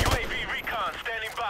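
Gunfire during a Search & Destroy round of Modern Warfare Remastered on the Bog map: quick shots blend with ringing, wavering tones in a short, busy burst of sound.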